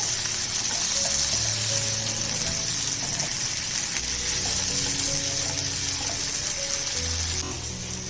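Tandoori chicken sizzles as it roasts directly over a stove flame, a steady hissing crackle with faint clinks, close and continuous without talk.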